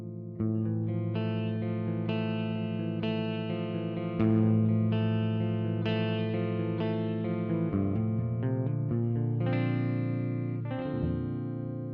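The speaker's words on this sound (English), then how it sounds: "So there's your clean tone." A clean electric guitar tone through a Tech 21 PSA 2.0 Sansamp, with ringing chords and arpeggiated notes that sustain and overlap, played steadily at moderate volume with a slight shimmer.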